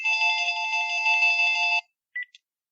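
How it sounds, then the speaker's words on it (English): A telephone ringback tone purrs steadily through a call for nearly two seconds, then cuts off, followed by two brief electronic blips. "I hear ringing on the other end."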